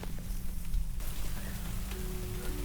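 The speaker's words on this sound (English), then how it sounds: "what a time to literally get the same amount of rain from last time" Rain falls softly and steadily, a faint, even patter with a low background rumble.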